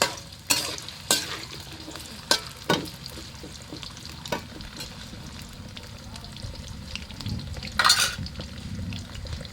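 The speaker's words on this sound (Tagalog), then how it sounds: "prito muna natin yung patatas" Potatoes fry in a pan with a soft, steady sizzle, broken by several sharp scrapes and knocks from stirring.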